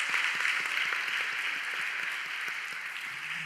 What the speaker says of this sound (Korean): 예배를 풍성하고자 준비하는, 전심으로 함께하는 찬양팀에게도 격려와 사랑의 박수를 보내도록 하겠습니다